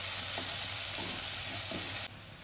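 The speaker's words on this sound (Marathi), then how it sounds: "त्यानंतर हा कढीपत्ता आहे तो घालते आणि आलं लसणाची पेस्ट हे घालून 1-2 मिनिटं मी परतवून घेते असं।" Curry leaves and ginger-garlic paste fry in a pan for a paneer ghotala, a steady close sizzle with a few soft stirring scrapes, dropping slightly quieter near the end.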